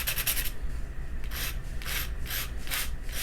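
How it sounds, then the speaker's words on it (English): Sandpaper turned by hand rubs against a point in a steady, close, gritty scratching, with rhythmic rasping strokes repeating throughout and no voices. "I would use some sandpaper, and you can kind of just turn it in your hand."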